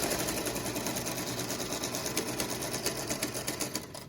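A sewing machine stitches a quilt block, its rapid steady mechanical whir and needle clatter running continuously at close range for about four seconds.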